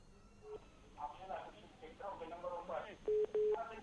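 Telephone line sounds as a caller is connected on a live TV news call-in, with short steady tones near the end under a presenter's talk.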